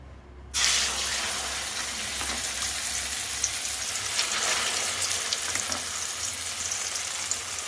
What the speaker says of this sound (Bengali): এবার এটা কড়াইতে তেল গরম হয়ে গেছে কড়াইতে দিয়ে দেবো